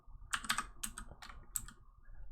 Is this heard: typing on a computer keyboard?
yes